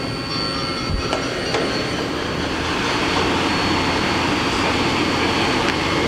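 A Mori Seiki NL3000Y CNC turning center with Y-axis milling and a bar feeder runs its spindle at 1,000 RPM, giving off a loud, steady, broadband machine roar with no pauses.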